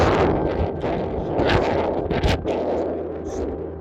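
Wind buffeting a microphone on an exposed hilltop near a radio tower, a low, uneven rumble swelling and easing in gusts, close and moderately loud, with no voices.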